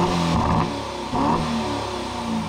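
Parked in Sport Plus mode, the AMG V8 of a 2024 Aston Martin DB12 revs in two quick blips, each rising and dropping back to a rumbling idle, loud and close with no talk.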